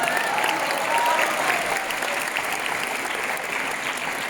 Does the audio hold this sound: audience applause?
yes